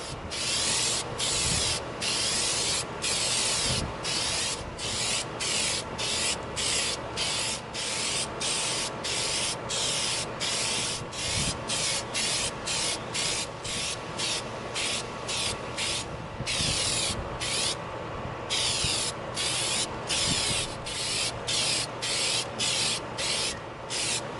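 Plastidip sprays in steady bursts from a can onto an EVA foam prop outdoors, a loud continuous hiss broken by brief pauses as the nozzle is pressed repeatedly, with no voices.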